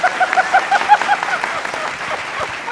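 Applause from a studio audience at a Hindi political comedy show, a brief patter of clapping that swells and fades over a couple of seconds under a murmur of crowd noise.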